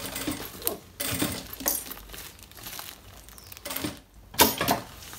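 Sewing machine stitching a thermal bag, running in bursts of rapid mechanical clatter with short pauses between seams, close and fairly loud.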